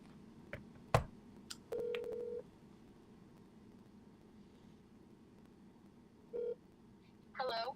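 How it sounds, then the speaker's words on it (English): A telephone on speakerphone gives a click, then short dialing tones at intervals, with a further tone burst near the end. The room is otherwise quiet, with faint background noise. "Let me call Jess real quick. Let me put this on speakerphone"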